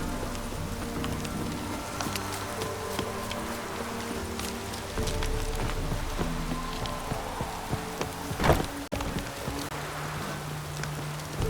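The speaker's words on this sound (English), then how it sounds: "Looks like rain." Steady rain hissing in The Witcher 3, a continuous patter of drops on surfaces with a faint game music bed beneath and a brief louder splash near the end.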